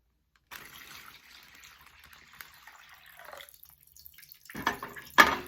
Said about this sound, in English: the water's still gonna go through the bag because there's nothing to plug the holes anymore